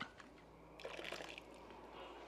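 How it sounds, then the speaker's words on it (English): Water is swirled inside an emptied tomato puree can and poured into a cooking pot for a beef ragu, a faint brief splash and trickle heard close by. "put some water in here, twirl it around a little bit, pour it in"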